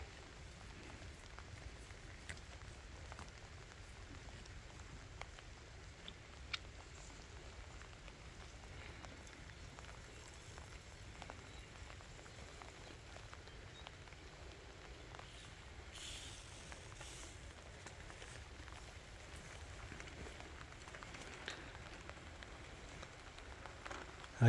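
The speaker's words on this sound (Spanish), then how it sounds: "gracias a Dios que está cayendo la lluvia" Rain falls steadily outdoors in a rural orchard area, a faint, even hiss with scattered soft drips and patters throughout.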